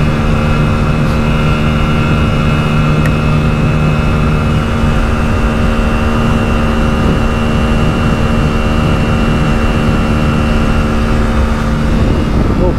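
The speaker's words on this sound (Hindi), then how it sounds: "अब फुल रेस रख दी है मैंने बाइक की" A Hero Splendor Xtec 2022 motorcycle ridden at full throttle during a top-speed run, its engine giving a loud, steady drone mixed with heavy wind rush that stays constant throughout with no voices.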